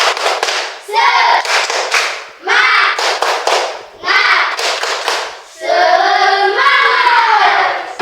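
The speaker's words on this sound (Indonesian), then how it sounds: "Tepuk tangan." A primary school class claps hands together in a quick rhythmic pattern, several bursts of clapping separated by short pauses, close and loud.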